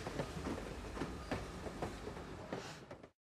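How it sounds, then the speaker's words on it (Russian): A cartoon train, a locomotive pulling a string of coupled wagons along the rails, rolls past with a steady rhythmic clickety-clack of wheels, fairly loud and close, before cutting off abruptly. "Вот едет поезд. Смотри, локомотив тянет за собой вагоны."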